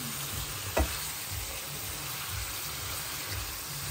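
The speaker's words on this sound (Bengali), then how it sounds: "কষানো হোক মাংসটা" Meat being sautéed and stirred in a pan, a steady close sizzle with a sharp knock of the spoon near the start, continuing alone without talk.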